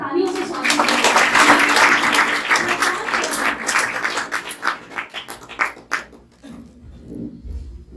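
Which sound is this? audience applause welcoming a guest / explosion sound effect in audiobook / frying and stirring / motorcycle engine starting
audience applause welcoming a guest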